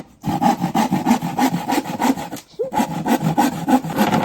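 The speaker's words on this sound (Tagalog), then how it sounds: "Lagari." A hand saw cuts through plywood in steady, rhythmic back-and-forth strokes, loud and close, with a brief pause near the middle before the sawing resumes.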